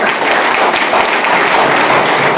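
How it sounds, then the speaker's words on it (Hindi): An audience at an education and employment lecture breaks into loud, sustained applause, dense clapping throughout with no voices over it. "तालियों से"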